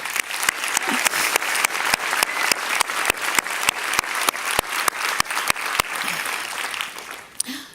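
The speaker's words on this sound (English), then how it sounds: "can I call for an applause for Gunhild?" An audience claps steadily, a dense patter of applause at moderate volume with a regular ticking beat running underneath, tapering off at the end.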